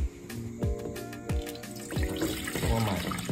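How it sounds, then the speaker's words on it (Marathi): Water splashes and gurgles steadily into a metal pot, with repeated clanks and knocks as it fills, close by. "आता यात पाणी टाकू मस्त कडक मध्ये"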